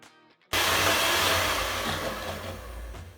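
An electric hand mixer whirs steadily through vanilla sponge cake batter with sugar and vanilla essence, switching on after a brief quiet start and running loud and close without a break.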